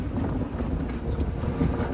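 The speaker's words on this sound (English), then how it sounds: "That's called luffing the sail." Wind pushing a sailboat's sail on Georgian Bay, a steady loud rushing and flapping with wind buffeting the microphone throughout, no voices.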